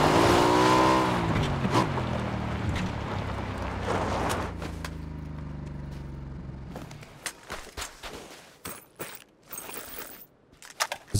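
A vehicle in a PUBG match revs loudly with rising and falling engine pitch and tire noise, then fades into scattered clicks and bumps toward the end, with no voices.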